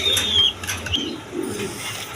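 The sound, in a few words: Bantinet pigeons cooing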